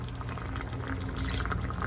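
Broth pours into a cooking pot in a home kitchen, a continuous close gurgling splash of liquid running steadily for the whole moment with no voices.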